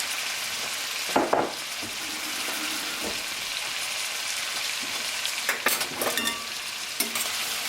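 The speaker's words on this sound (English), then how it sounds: "I'm going to stir this in." Cilantro being stirred into a chayote squash filling in a frying pan, a steady low sizzle throughout with a few louder scraping clatters of the utensil against the pan.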